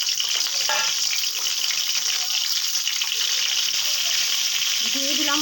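Pointed gourds (potol) frying in hot oil for tel potol give a loud, steady, dense sizzle that crackles continuously from start to finish, close up.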